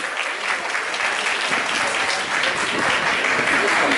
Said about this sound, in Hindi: एक जोरदार तालियों के साथ।